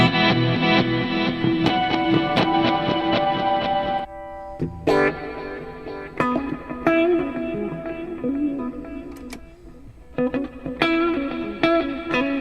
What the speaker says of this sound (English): It's just a big giant reverb.